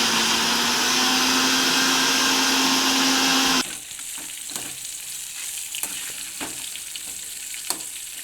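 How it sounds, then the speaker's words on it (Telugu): Brinjal pieces fry in a pan with a soft, continuous sizzle and occasional stirring scrapes, following a loud appliance roar that cuts off early on. "వంకాయ బాగా వేగింది."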